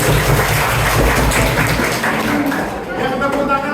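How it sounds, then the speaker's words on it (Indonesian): A class of students claps their hands together, a dense burst of mixed applause that fades out after a few seconds, with voices talking over it. "Oke, tepuk tangan untuk kita semua."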